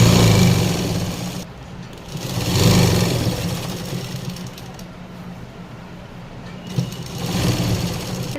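A sewing machine runs a double stitch along elastic stretched onto the hem of narrow-cut pants, giving a steady close mechanical whir that pauses briefly and restarts as the fabric is pulled along.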